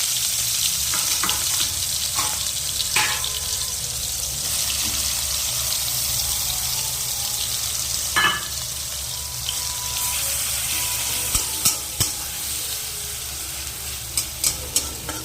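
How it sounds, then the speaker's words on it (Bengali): Shrimp coated in salt and turmeric frying in hot mustard oil in a wok, a steady loud sizzle with occasional stirring clinks and scrapes. "এবার লবণ হলুদ মাখিয়ে রাখা চিংড়ি মাছগুলো দিয়ে দেবো"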